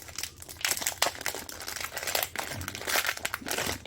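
Beef smoked sausage being pulled out of crinkly plastic packaging: close, continuous crackling and crumpling of the plastic with uneven bursts, no talk.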